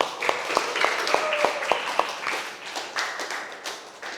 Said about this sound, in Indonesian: Kita kasih tepuk tangan untuk dua teman kita.